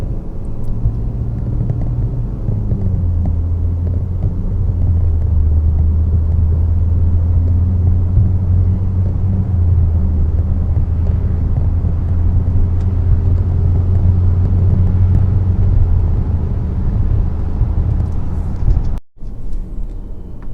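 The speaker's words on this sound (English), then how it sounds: "Just a normal acceleration" An Audi Q7 TDI diesel engine with a stage II tune hums as the car accelerates normally from about 20 mph in D mode, a steady low rumble that rises slightly in pitch.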